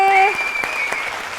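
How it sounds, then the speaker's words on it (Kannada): A television singing reality show audience bursts into loud, steady clapping for the band as a final held musical note fades out at the start. "ನಮ್ಮ ವಾದ್ಯ ವೃಂದದವರಿಗೆ ಬರಲಿ ಜೋರಾದ ಚಪ್ಪಾಳೆ"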